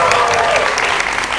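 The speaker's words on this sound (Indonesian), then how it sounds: "Tepuk tangan dong untuk juru bicara masing-masing." Audience applause for the speakers at a debate, a steady wash of clapping filling the room, fairly loud and close, with some voices mixed in underneath.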